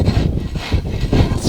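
Turf pieces for an earthbag roof are scraped down to remove excess soil, giving a loud, close, gritty rubbing and scratching in several uneven strokes over the short stretch.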